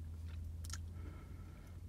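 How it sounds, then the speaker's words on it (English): A person chews and munches food close to the microphone, with a few soft crunchy bites over a steady low hum and no talking. "I'm over here chewing and munching"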